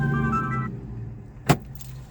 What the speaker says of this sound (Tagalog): Hintayin ko makaalpas tong isang sasakyan